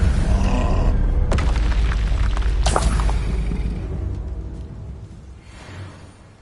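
A Confringo blasting spell in Hogwarts Legacy, a loud booming explosion with crackling bursts and a rumbling tail that fades away over several seconds, no talk.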